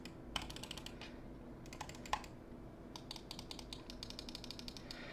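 Rapid bursts of crisp clicks from the buttons of an ATKSHARK VXE R1 lightweight gaming mouse, quiet, close and arriving in quick uneven clusters with short pauses between them.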